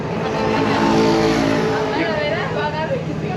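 A Yamaha 250 YZF motorcycle engine drones loud and steady, close by, with people talking over the running motor.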